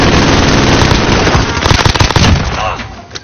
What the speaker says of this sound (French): Elle déploie une tourelle automatique.